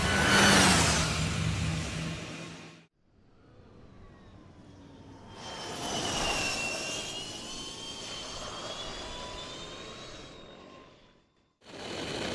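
Electric racing motorcycles of a TTXGP round at Pembrey sweep past the start-finish straight, rising whooshing whines that swell and fade in two passes with quiet gaps between, heard from trackside.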